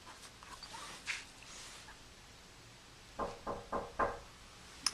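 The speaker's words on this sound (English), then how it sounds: "I got someone at my door." Several knocks on a door, a quick cluster of four raps following an earlier single one, fairly faint in a quiet room.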